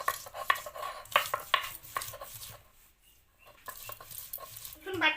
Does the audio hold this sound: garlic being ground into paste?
yes